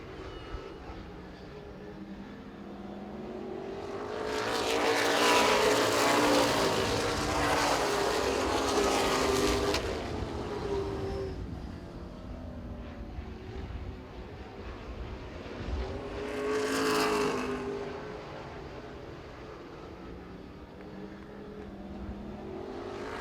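Race cars sweep past on the track at Baer Field Motorsports Park, engines swelling as they near and fading as they go, one long loud pass followed by a second, shorter one.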